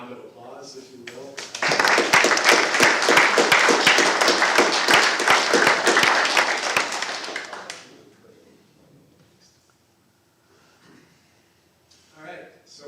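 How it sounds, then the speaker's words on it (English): Audience at an annual community meeting breaks into loud clapping for about six seconds, then it fades out, with quiet speech before and after. "So give them all a round of applause, if you will."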